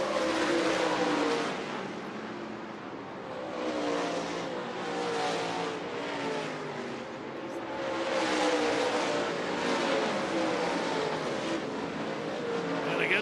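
Race cars roar around a track on the final lap of an early-season night race, a dense continuous engine drone swelling and fading as the pack passes, loud and sustained with no talk.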